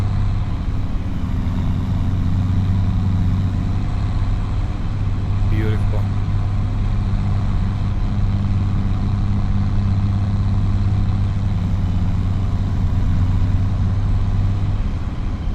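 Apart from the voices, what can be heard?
Cummins diesel truck engine idling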